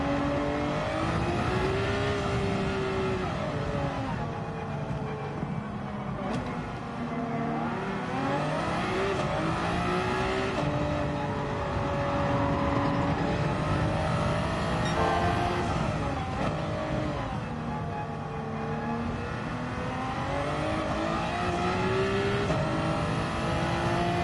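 A race car engine in Gran Turismo 7 revs continuously, climbing and dropping through gear changes in repeated sweeping arcs, loud and close with faint tire squeal, no voices over it.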